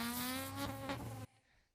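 A base-model Honda Civic engine gives off a thin, buzzy, insect-like drone at steady pitch that stops abruptly into near silence. It is faint and heard alone.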